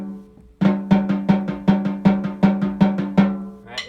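A solo snare drum plays a steady run of eighth note triplets with accents, about a dozen crisp, evenly spaced strokes heard up close with no talking.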